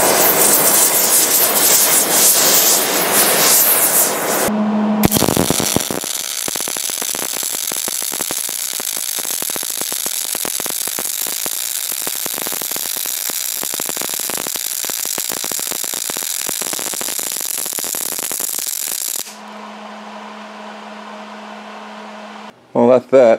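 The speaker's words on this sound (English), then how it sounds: "I'm going to take the big old torch and I'm going to preheat these giant chunks of steel" Large torch roaring steadily and loudly for about fourteen seconds while preheating giant chunks of steel for a heavy sword, up close and with no talk.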